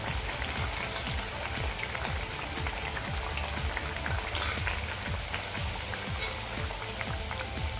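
Kothimbir vadi frying in hot oil over a medium-low flame, a steady dense crackle and bubbling sizzle that runs evenly throughout, close and continuous with no voices.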